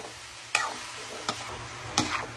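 Jackfruit with garlic and onion is stirred in a pan for ginataang langka, a soft sizzle under three distinct spatula scrapes spaced about evenly apart, close by.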